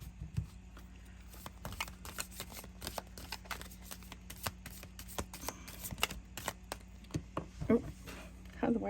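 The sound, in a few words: shuffling tarot cards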